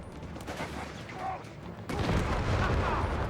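Gunfire and flak fire in Company of Heroes 3, a desert battle between the Afrika Korps and US forces with scouts under fire. Dense bursts of shots and booms build, then grow louder in the second half while a voice talks over them.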